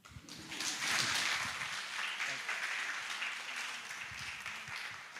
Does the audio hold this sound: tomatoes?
no